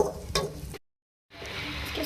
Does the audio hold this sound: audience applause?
no